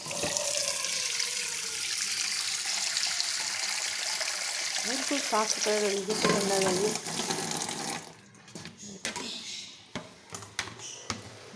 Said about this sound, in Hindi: अब मैं इसको सिंक में दोबारा डालूँगी और दोबारा पानी भरूँगी।